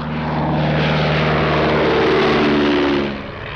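A 1917 SE-5A all-wood single-seater fighter biplane flies past at an air pageant, its engine droning loud and steady with a throbbing propeller tone, then easing slightly toward the end.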